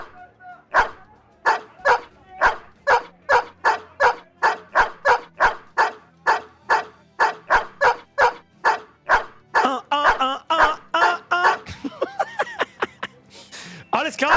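Repeated dog barks from the video game Battle Brothers, a rapid run of roughly two dozen loud close yaps in steady rhythm, shifting to whines and yelps near the end.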